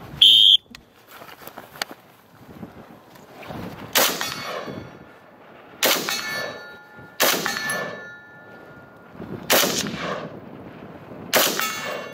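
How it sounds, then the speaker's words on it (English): Rifle shots fired standing in a crosswind at an outdoor range, each followed by a ringing clang from a struck steel target; five loud, evenly spaced impacts with long metallic ring-outs, a faint whistle at the start. "Start shooting standing. Shoot ready at the whistle."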